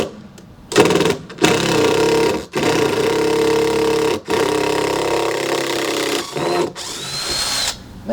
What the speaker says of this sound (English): I'm determined to get all the power out of the little, what you call it? Black & Decker.